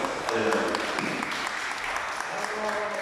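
An audience at a lecture on the sculptor Rómulo Rozo applauds a speaker, a brief round of clapping mixed with a voice talking over it.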